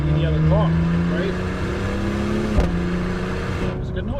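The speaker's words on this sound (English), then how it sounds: "For a V6, that's a really good noise." Maserati Levante V6 engine droning at steady revs from inside the cabin, a low continuous hum with a brief shift-like dip midway, with talking over it.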